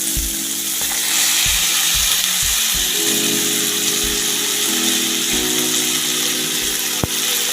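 Sliced okra sautés with tomato in a pan, a loud, continuous close-up sizzle over a low humming drone, with a few soft knocks and one sharp tap near the end.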